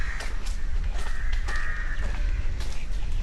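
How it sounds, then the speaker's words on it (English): Several crows caw repeatedly in a coastal village near a beach, some near and some farther off, over a steady low outdoor rumble. "Sound of crows everywhere"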